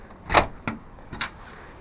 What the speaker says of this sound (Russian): Закрываем, Нанка, дверь.